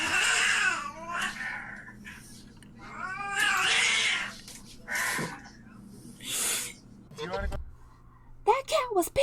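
An angry cat lets out a series of loud, drawn-out yowls and caterwauls close by, rising and falling in pitch, with people talking over and between the cries.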